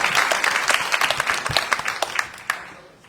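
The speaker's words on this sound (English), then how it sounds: "we'll give you a short round of applause" Short round of applause for a state representative being introduced at a Democratic gubernatorial campaign event, a crowd clapping steadily for about two and a half seconds before tapering off with a few last claps.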